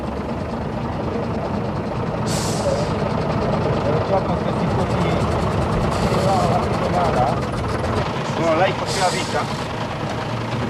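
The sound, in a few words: 16-ton supply truck driving across a bridge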